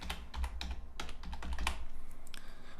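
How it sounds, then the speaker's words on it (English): Typing on a computer keyboard while building a website in Dreamweaver, quiet irregular clusters of key clicks close by, with no voices. "type in keywords"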